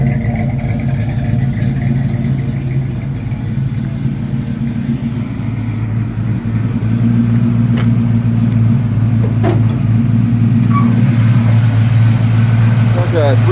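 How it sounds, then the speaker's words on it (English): A brand-new 350 crate V8 in a 1966 Chevrolet C10 short bed idles steadily and close by in cold weather, a continuous low rumble holding even throughout with a slight rise partway. "It's a 350 crate motor"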